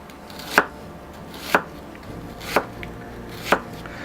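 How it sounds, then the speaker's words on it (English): A knife finely chops an onion on a board: four crisp, evenly spaced strikes about a second apart, close and clear against a quiet background. "without going all the way in, you finely cut the onion"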